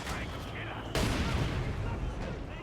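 Mortar fire in the World War II strategy game Company of Heroes 2. A sharp blast lands midway and rumbles on, and other distant battle noise continues under a commentator's talk.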